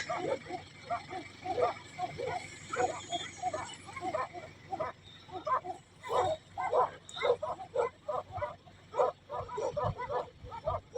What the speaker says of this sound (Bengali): এখানে হিংস্র কুকুর আছে অনেক